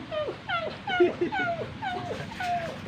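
A dog whimpers and whines in a repeated series of high, drooping cries, close and fairly loud, with a few short yips mixed in.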